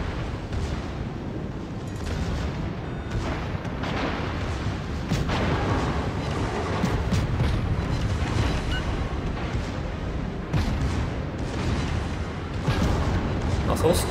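Heavy booms and bursts of naval gunfire in World of Warships roll out repeatedly in a dense, chaotic barrage, close and loud throughout.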